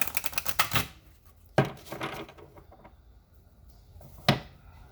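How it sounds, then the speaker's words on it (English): Goddess Dream Oracle cards being shuffled up close, a quick rapid riffle of snapping cards at first, then a few separate sharp slaps and softer shuffles with gaps between. "Alright, one more shuffle."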